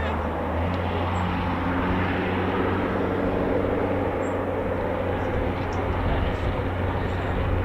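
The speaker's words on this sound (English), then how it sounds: "He's constantly listening out for aircraft like that" Near an RAF airfield, an aircraft's engines make a continuous low roar with a steady droning hum that holds at an even level throughout.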